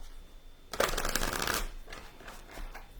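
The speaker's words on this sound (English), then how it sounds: "Count to 10 while I shuffle." A deck of cards being shuffled for a card reading, a crisp riffling burst lasting about a second, followed by fainter softer shuffling in a quiet room.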